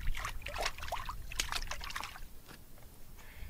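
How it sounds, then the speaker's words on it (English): Rainwater trickles out of a gutter pipe into a full storage tank, a close, irregular dribbling and splashing that gradually softens. "this is where the water comes out after it's came down the gutter to fill the tank"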